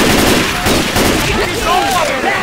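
Gunshots from Left 4 Dead: a dense run of sharp gunfire bursts, loud and close, blended with game noise and overlapping voices of players talking.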